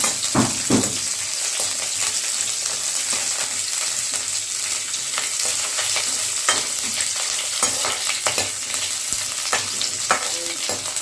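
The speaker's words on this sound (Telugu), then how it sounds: "ఆనియన్స్ ఫ్రై చేసుకోవాలి" Onions frying in hot oil for a restaurant-style mushroom curry, a continuous crackling sizzle close by, punctuated by repeated sharp scrapes and knocks of a spatula stirring the pan.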